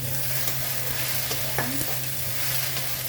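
Okra stir-frying in a pan with a splash of light soy sauce, giving a steady close sizzle throughout with a few faint clinks and scrapes of a utensil.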